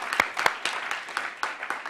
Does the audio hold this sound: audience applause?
yes